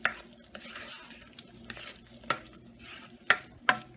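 A spoon stirs okra masala in an oiled pan, with soft scraping and gentle sizzling broken by several sharp clinks of the utensil against the pan, close and alone.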